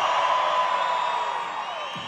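A concert crowd at a live show in Tehran screams and cheers in a dense, loud, steady roar that fades slightly toward the end.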